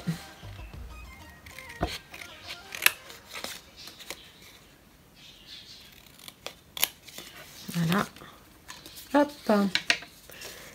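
Scissors snip out a small paper stamp for a Christmas album craft, giving a scattering of close, crisp cuts and paper rustles with someone speaking softly in between.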